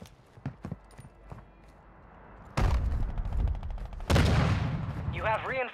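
Gunfire in Warzone 2 on Ashika Island: a few scattered shots at first, then two loud sustained bursts of rapid automatic fire close by, with a voice chattering briefly near the end.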